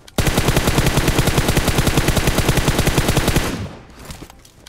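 Rapid automatic gunfire in a battle royale-style shooter game, a loud sustained burst of evenly spaced shots lasting over three seconds before cutting off into quieter game noise.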